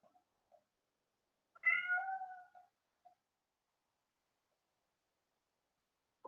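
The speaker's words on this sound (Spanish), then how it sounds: "no sé si escuchan a mi gato, está pidiendo salir afuera." A house cat gives a single drawn-out meow, asking to be let outside, in an otherwise quiet room, preceded and followed by a few faint soft sounds.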